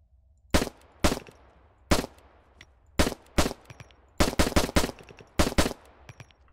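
Pistol in ArmA 3, a .45 ACP sidearm firing about a dozen loud, sharp reports, some single and spaced apart, others in quick clusters of two to four, each with a short echoing tail.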